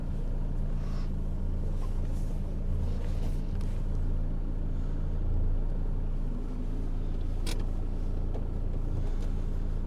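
Skid steer driving inside a barn, a steady low rumbling engine drone with faint creaks, continuous and fairly close throughout.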